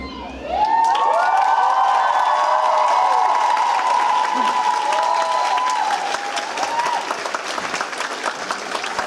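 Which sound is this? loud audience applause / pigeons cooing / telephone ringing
loud audience applause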